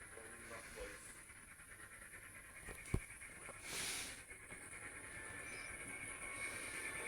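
Steam locomotive from Thomas the Tank Engine chuffing along the line with a steady hiss and rhythmic puffing, a brief sharp clank partway through, moderate level and no talk.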